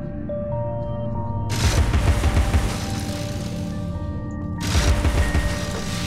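A weapon fires in the video game Alice: Madness Returns, coming as two loud, close bursts of rapid shots with booming low thumps, separated by a few seconds of quieter background.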